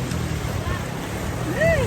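Strong floodwater current rushing through a spillway, a steady loud roar of churning water with a faint whistling tone near the end and a voice talking over it.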